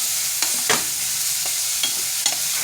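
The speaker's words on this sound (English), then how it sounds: "once it liquefies enough that the frying actually cools down into a nice simmer" Meat and vegetables fry steadily in hot grease, a continuous close sizzle broken by occasional louder pops and crackles.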